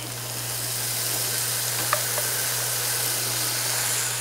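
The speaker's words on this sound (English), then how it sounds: "We'll just let that garlic cook a little bit and saute with the onions until the garlic is nice and fragrant." Minced garlic and tender onions sauté in a pan with a steady, soft sizzle and a low constant hum underneath, one faint clink midway, no voices.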